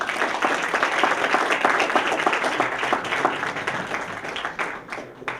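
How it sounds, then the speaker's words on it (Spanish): Sustained audience applause welcoming an engineer as lecturer at an environmental risks conference, dense steady clapping from a full room that tapers off near the end. "presentamos y recibimos con un excelente aplauso al ingeniero Juan José Sánchez Navarrete."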